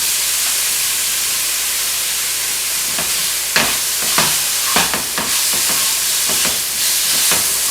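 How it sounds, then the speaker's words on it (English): Thin strips of steak fry in a pan with a steady bright sizzle. Occasional stirring scrapes and clacks punctuate the second half. "you have thin steak and then cut into strips. And just cook it up, man."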